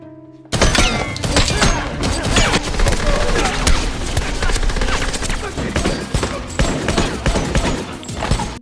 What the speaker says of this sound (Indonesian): Lalu tak lama kemudian mereka pun datang dan saling menembak.